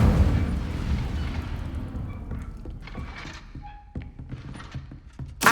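An Incendio fire spell is cast in the video game Hogwarts Legacy: a loud, thumping burst of flame at the start, then several smaller whooshing bursts and impacts, ending with another sharp blast.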